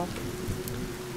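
Steady rain falls in the farming video game Cattails, an even, close hiss of drops with no other sounds standing out.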